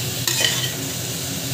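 Onion and green chilies sautéing in a pan for a dhaba-style vegetable biryani, a steady close sizzle with a brief stirring scrape early on, no voices.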